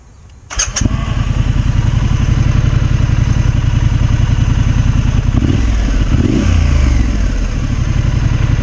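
A Triumph Scrambler 900 motorcycle engine catches after a brief starter clatter, then idles and revs in a loud, steady rumble close by, with two quick throttle blips near the end and no talk.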